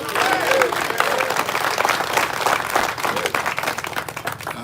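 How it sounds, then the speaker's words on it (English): Outdoor crowd at a street sign unveiling in Philadelphia claps loudly and steadily for a visiting guest, dense applause close by with faint voices mixed in beneath. "Give him a round of applause."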